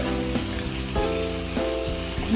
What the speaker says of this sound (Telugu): లో టు మీడియం ఫ్లేమ్లో పెట్టేసుకొని మంచిగా ఫ్రై చేసుకోవాలి చికెన్ని మూత పెట్టేసి